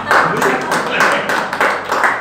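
Scattered audience clapping in a talk setting, a steady patter of hands lasting a couple of seconds with voices mixed in underneath.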